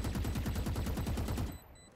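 Quick burst of rapid automatic gunfire in the Valorant shooter video game, steady rhythmic shots for about a second and a half before cutting off, fairly quiet overall.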